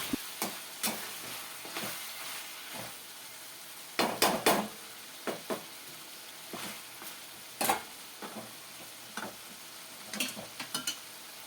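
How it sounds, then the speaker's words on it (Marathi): Mutton sukka cooking down in oil in a pan, giving a faint steady sizzle broken by scattered soft clicks and stirring scrapes, with a few louder clatters around the middle. "याच्यामध्ये थोडंसं लिक्विड टाईप दिसते ते आपल्याला आता आटवून घ्यायचं आहे"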